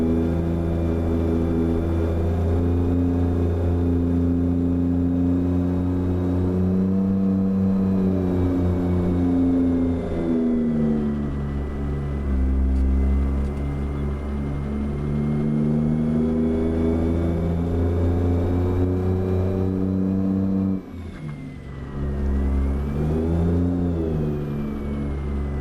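Truck engine in American Truck Simulator revving loud and close, pitch climbing and sagging over sustained drones, briefly dropping off near the end before rising again.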